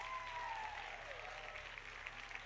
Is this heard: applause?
yes